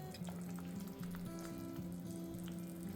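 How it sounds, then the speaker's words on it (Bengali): Fried eggplant simmers in a sizzling spiced yogurt gravy, giving a steady, close crackle and bubble in a pan with no voices. "এবার এই মুহূর্তে আমি অ্যাড করে দেবো ভেজে রাখা বেগুনগুলো"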